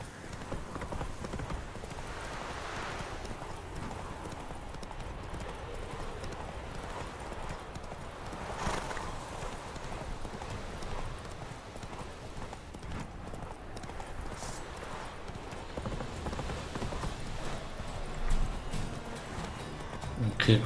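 A horse gallops in The Witcher 3: Wild Hunt, rhythmic clip-clop hoofbeats running steadily throughout, with someone talking over them.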